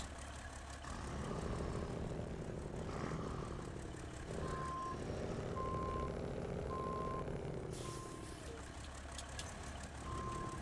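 A truck's reversing alarm beeps in a slow regular series over a rumbling heavy engine in the driving game Snowrunner, with someone talking faintly over it.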